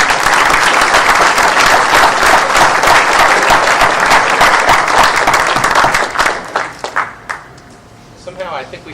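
An audience at an architecture awards dinner applauds the Hearst Corporation team with loud, dense clapping that holds steady for several seconds, then thins into scattered claps and fades into quiet room murmur.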